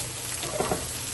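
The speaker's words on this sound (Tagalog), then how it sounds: "lalagyan natin yung ating bay leaves habang ginigisa natin ito" Fish steak sautéing in a pan as bay leaves go in, a steady broad sizzle of frying with a couple of soft stirring clatters partway through, close and continuous.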